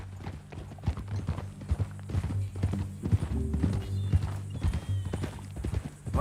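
Horse hooves clip-clop in a steady walking rhythm, a series of sharp, distinct knocks close by, with a low hum running underneath.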